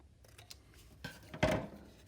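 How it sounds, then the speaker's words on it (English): A few short snips and a longer crisp cut, close by, with quiet handling between them. "get you some scissors, and just carefully cut along that line"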